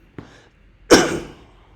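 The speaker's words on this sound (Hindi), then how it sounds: "खांसी आ गई थी" A short throat sound followed by one sharp, close cough that trails off quickly.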